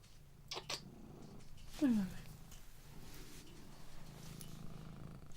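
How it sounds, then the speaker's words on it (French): A cat purrs close up in a low, steady rumble throughout, broken by a short rising-then-falling vocal chirp near the middle and a couple of brief rustles early on. "Mais si tu ronronnes et tout, c'est pas très pratique pour moi."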